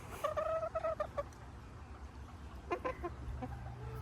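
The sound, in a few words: chicken clucking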